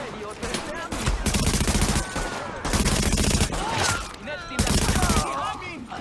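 Gunfire bursts in the video game The Division on PS4, coming in repeated loud volleys between short pauses alongside game effects and tonal alert sounds.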